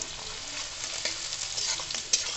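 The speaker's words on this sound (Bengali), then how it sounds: "গাজর দিয়ে একটুখানি ভাজবো।" Carrots stir-frying in a pan for chow mein give a steady close sizzle, with scattered stirring scrapes and a sharper clink near the end, and no talk.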